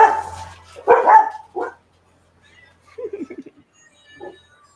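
Dogs bark in a loud cluster of close barks at a tractor, then a few quieter, scattered barks and yips follow after a pause.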